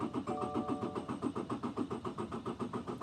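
A Subaru engine cranks on its starter without firing, a fast even chugging rhythm that holds steady throughout.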